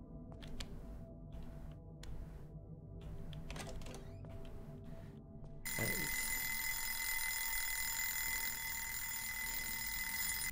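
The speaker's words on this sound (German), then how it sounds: "Wieso falle ich eigentlich zum zweiten Mal auf diesen blöden Wecker rein?" A shrill alarm clock in the horror video game Obscuritas bursts into continuous loud ringing after several seconds of rhythmic clicking and clacking sounds.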